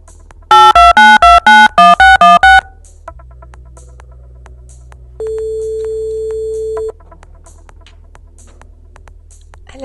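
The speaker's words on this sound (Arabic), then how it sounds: "الهاتف يرن" A telephone call is placed for a radio program. A rapid series of about nine loud dialing beeps plays over a low steady hum, then after a gap a single long ringing tone sounds on its own.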